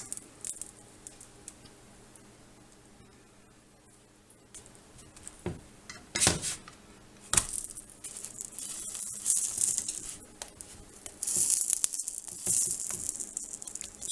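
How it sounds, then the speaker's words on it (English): Juices from a quesadilla sizzle on a hot pan in crackling bursts that come and go, louder toward the end, with no talking over them. "Got some of the juices sizzling out."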